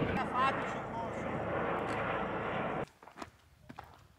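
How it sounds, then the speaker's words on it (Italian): Helicopter passing overhead on a mountain trail in the Dolomites, a loud broad rotor and engine roar that holds steady then cuts off abruptly, followed by faint outdoor rustling and light footsteps. "abbiamo un elicottero in passaggio"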